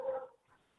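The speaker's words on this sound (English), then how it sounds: "sorry if you can hear my dogs barking in the background" Dogs bark in the background, a single short, muffled yelp at middle distance that fades quickly into quiet room tone.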